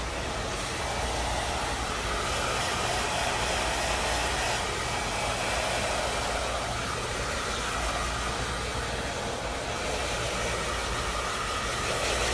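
An Arrojo Twin Turbo Power Lux Motor hair dryer running continuously while blow-drying medium-length hair, a loud, steady broadband whoosh with a low motor hum and slight airflow fluctuations as it moves through the hair.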